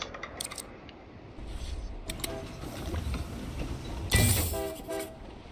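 A train in the railway-building video game Railgrade gives short horn toots amid clicky interface blips. A brighter burst of game sound comes near the end, and all of it is fairly quiet.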